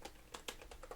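Quick, light keystrokes on a computer keyboard, about half a dozen soft clicks tapped in an irregular burst, close and quiet with no talking.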